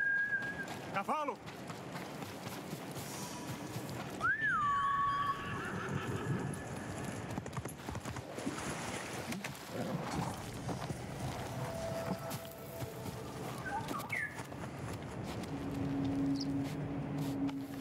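A horse in the video game Ghost of Tsushima neighs clearly near the start, followed by steady hoofbeats under a game soundscape with scattered whistles and other effects.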